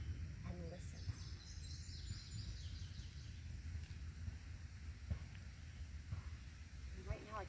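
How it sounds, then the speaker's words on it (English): Faint bird chirps and short calls, including a Carolina wren, sound intermittently over a quiet woodland hush, a few distinct phrases near the start and end. "Right now I can hear three types of birds."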